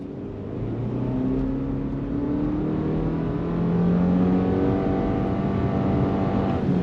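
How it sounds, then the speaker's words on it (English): A 2025 Subaru Forester Sport pulls away from a dead stop under throttle, its engine note rising steadily and smoothly in a loud, continuous drone heard from inside the cabin with no talking. "let's do a little bit of on throttle here from a dead stop and just show you how it lays the power down"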